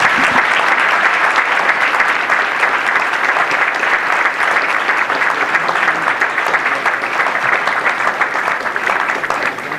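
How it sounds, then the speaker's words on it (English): Loud, dense applause from a conference audience for a panel of speakers, continuous and even, with many hands clapping close by and no talking over it. "give a big round of applause for our panelists because they rocked it"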